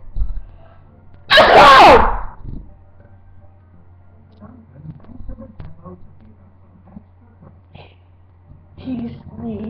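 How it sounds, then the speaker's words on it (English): A single loud sneeze bursts out near the start, followed by quieter soft speech and low room sounds for the rest of the clip. "He sneezed."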